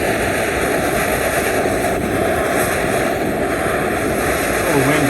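A Coleman Peak 1 camping stove burner roars loud and steady on high, a dense continuous rush outdoors in a little wind.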